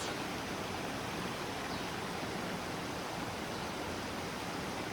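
A village river flows openly on a rainy day with a constant, even rush of water. The sound is steady, broadband and fairly quiet throughout, with no voices.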